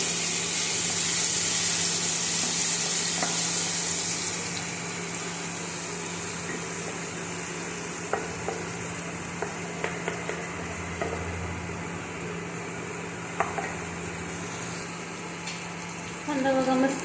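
Onion, garlic and ginger paste frying in a pan for egg curry gives a steady, close sizzling hiss that is loudest over the first few seconds, then settles softer with scattered small clicks and pops.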